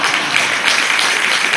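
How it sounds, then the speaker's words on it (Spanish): Audience applause at a live tango concert by an Argentine quintet, a dense, steady wash of clapping that holds at an even level for a short stretch with no voices over it. "Un gran aplauso para el pequeño."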